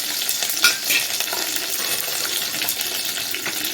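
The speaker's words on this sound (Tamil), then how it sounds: "கடுகு பொரிஞ்சதுக்கப்புறம் இந்த பூண்டு மிளகா கருவேப்பிலை இதெல்லாம் போட்டுக்கலாம்" Garlic, red chillies and curry leaves fry with popped mustard seeds in hot oil for Andhra tomato pappu, giving a continuous close crackling sizzle with a few sharper pops and some stirring, and no talking.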